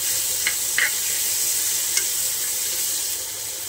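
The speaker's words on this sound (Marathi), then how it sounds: "तेल गरम झालेलं आहे, त्याच्यामध्ये आपण हे वाटलेलं हिरवी मिरची टाकूया" Ground green chilli paste sizzling in hot oil in a pan, a steady hiss with a few short sharp crackles and spoon stirs, close and fairly loud, no talking.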